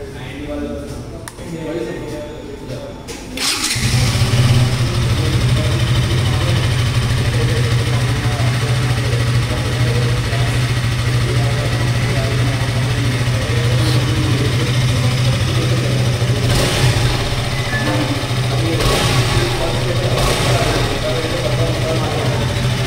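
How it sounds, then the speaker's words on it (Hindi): A KTM 200 Duke motorcycle, parked at a KTM showroom in Goregaon, starts up after a brief lull and settles into a loud, steady idle with a few throttle blips, close to the microphone. "तो अभी क्विकली अब सुनते हैं इसका एग्जॉस्ट नोट"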